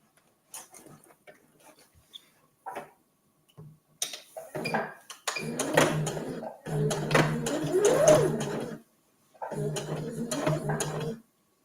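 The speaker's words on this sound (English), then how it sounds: "we're just going to stitch this whole circumference" A sewing machine stitches slowly around the circumference of a reusable gift bag's lining, its mechanical whirring coming in several bursts of a few seconds each, with light clinks and handling noises between runs.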